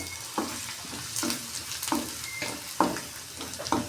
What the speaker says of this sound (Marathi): त्यात आपल्याला हे शेंगदाणे, लसूण आणि हिरवी मिरचीचे वाटण घालून घ्यायचे आहे.